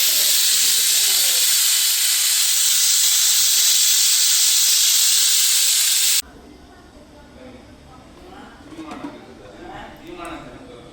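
A pressure cooker full of colocasia stems lets out one loud, continuous steam whistle for about six seconds, then cuts off abruptly. Quieter kitchen sounds and a voice follow.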